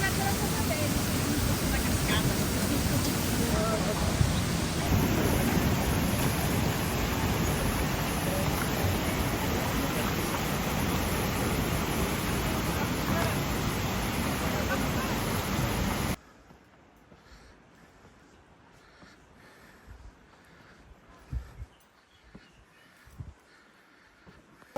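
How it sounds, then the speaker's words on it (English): Ouzoud Waterfalls in Morocco roar loud and close as a constant rushing wall of water for about sixteen seconds, then give way abruptly to a much quieter outdoor ambience with occasional faint knocks. "The closer you get, the more power you feel from the waterfall."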